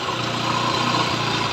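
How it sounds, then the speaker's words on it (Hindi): A Bajaj Discover 100 T motorcycle engine idles steadily after a full engine fitting, a constant low mechanical rumble with a slight rhythmic pulse, close and fairly loud with no talking. "आप साउंड सुन सकते हैं जिसमें साउंड काफ़ी बेहतरीन आया है इंजन का"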